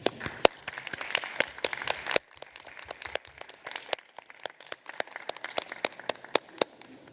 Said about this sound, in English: give them applause again